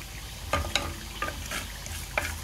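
Cardamom pods, cloves, cinnamon stick and cumin seeds frying in hot oil, a soft crackling sizzle broken by a few sharp spoon-scrape clicks, close-up but fairly quiet.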